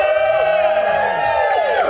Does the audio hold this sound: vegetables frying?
no